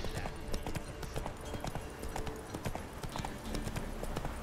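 A horse gallops in the game The Witcher 3: Wild Hunt, with rapid, continuous hoofbeats close up over a busy ambient bed and no clear talking.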